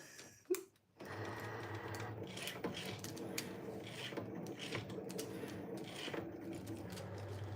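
A Cricut cutting machine runs steadily over a perforation line on wedding stationery, a close, quiet mechanical whir with small clicks and carriage movements that starts after a brief knock and continues without talking.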